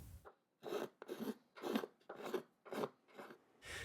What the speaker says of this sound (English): We will use finger planes to slowly shape the arching under this beautiful lighting.